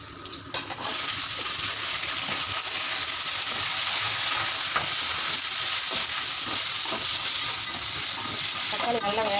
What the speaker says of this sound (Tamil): தக்காளி நல்லா வேக வச்சு கொஞ்சம் உப்பு போட்டுடணும்.